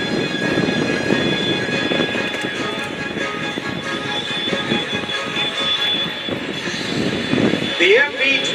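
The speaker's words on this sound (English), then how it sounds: "The MV-22 approaching now from the right is transitioning" A loud, roaring MV-22 Osprey tiltrotor engine with a whining, squealing edge, sustained throughout and rising near the end, over busy crowd noise at an air show.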